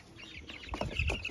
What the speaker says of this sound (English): That chicken with no hair is called Mokino